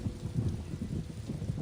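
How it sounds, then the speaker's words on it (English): A thunderstorm in the video game Tales of Xillia 2 gives a brief, fairly quiet low rumble of thunder mixed with soft, steady rain. "Man, this thunder's pretty intense, huh?"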